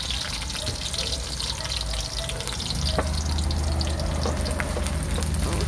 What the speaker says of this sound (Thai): ผัดให้มันได้ทีมันหอม